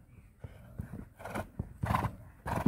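A horse moves and snorts in a series of irregular bursts with rustling, shuffling sounds between them, fairly faint and somewhat distant.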